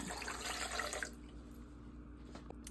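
Water splashes and pours steadily into a blender with carrot, ginger and turmeric for about a second, then stops, leaving a quiet room hum with faint drips.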